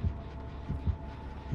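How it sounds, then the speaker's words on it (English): Killer's heartbeat warning in Dead by Daylight: slow, deep, throbbing thumps in pairs over a low hum, close and steady, with no talk. "he's got the heartbeat now"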